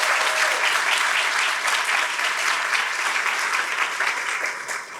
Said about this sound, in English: So if we could give them a round of applause, please.